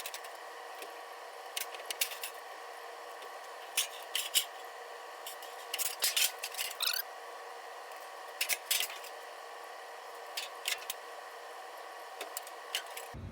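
Sheet metal duct boot pieces being folded and locked together, giving scattered faint metallic snips, clicks and scraping bursts over a steady background hum.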